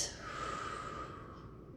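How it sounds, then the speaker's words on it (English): A single deep breath during a neck and spinal mobility stretch, a close, slow airy inhale that fades gently. "And some deep breaths."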